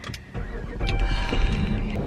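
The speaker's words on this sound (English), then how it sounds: "I need to turn the car on because it's so hot." A car is switched on in hot weather, giving a close mechanical click followed by a rising engine and blower hum that settles into a steady low drone.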